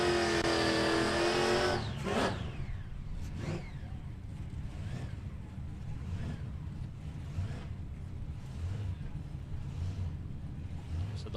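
Drag racing cars accelerating down the strip at Palmyra Raceway, a big 57 Chev among them, a loud launch roar that fades into a distant, steady engine rumble with a few passing surges.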